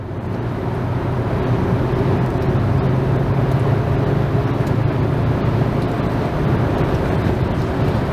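A 2001 Volkswagen Jetta VR5 engine cruising steadily in fourth gear, a continuous low drone with road and wind noise, heard from inside the car at constant moderate loudness.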